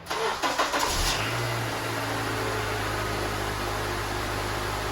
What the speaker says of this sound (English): So we're going to turn the car on.